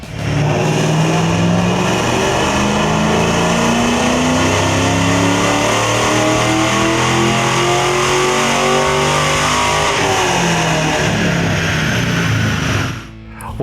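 A 2005–2010 Ford Mustang GT 4.6L 3-valve V8 with long-tube headers and an off-road X-pipe revs hard and loud on a dyno, its pitch climbing steadily through the gears over many seconds before cutting off at the end.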